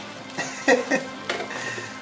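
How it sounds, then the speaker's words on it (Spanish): Pan of food with porcini mushrooms sizzling and frying on a stove, a steady close crackle with a few louder bursts of stirring. "¿Te gusta que esté hirviendo porque te hace compañía, no?"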